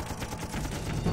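A Phantom jet's turbine-driven gun pod cannon fires at over 6,000 rounds per minute, a continuous rapid burr lasting about a second at moderate loudness with no voices.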